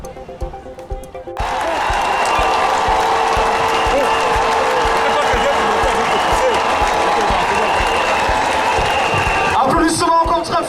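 A large crowd applauds loudly and steadily at a welcome ceremony for the Trans-Gabonais train during a presidential tour in Gabon, starting abruptly after a quieter moment and holding dense for about nine seconds, with voices mixed in.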